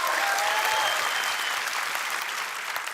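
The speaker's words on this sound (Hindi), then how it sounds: "तालियों की गड़गड़ाहट होती है" A studio audience on a comedy show bursts into loud, dense applause that fills the air evenly and then eases slightly toward the end.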